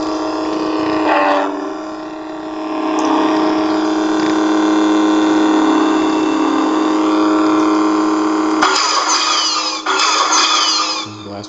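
A steady, loud electronic hum from the sound font of a chrome lightsaber replica, idling on standby at close range, shifting in tone partway through with a brighter crackle near the end.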